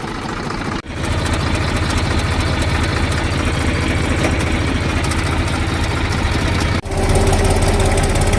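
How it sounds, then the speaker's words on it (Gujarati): Tractor engine running in a field during wheat sowing, a loud close rhythmic diesel chug with steady throbbing, briefly dipping twice as the load changes, with no voices over it. "ચાલો હવે આપણે ટ્રેક્ટર ચાલુ કરી દઈએ મિત્રો"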